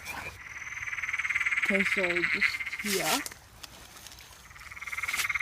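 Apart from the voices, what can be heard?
loud frogs croaking at a pond at night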